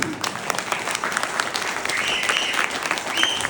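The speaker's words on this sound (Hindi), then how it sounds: "तो बजानी चाहिए ना ताली" An audience at a health and wealth seminar in Almora claps in a steady, moderately loud round of applause, with individual sharp claps audible through the wash and no speech over it.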